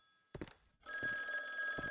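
An old telephone rings inside a house in the horror game The Guest, a short clattering bell burst followed by a sustained metallic ring, close and clear in a quiet room.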